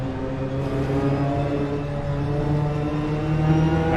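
Racing car engines whine at high revs in Assetto Corsa, a BTCC championship round with a Hyundai i30, holding a steady droning tone with rich harmonics that swells slightly near the end, no voices over it.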